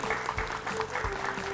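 Applause on a children's educational quiz show after a correct answer, a short burst of steady clapping with a faint tone running underneath.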